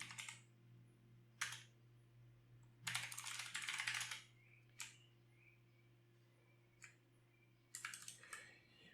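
Scattered keystrokes on a computer keyboard as a terminal command is typed on a Linux machine, with short bursts of clicks and a denser flurry in the middle, close and fairly quiet over a steady low hum.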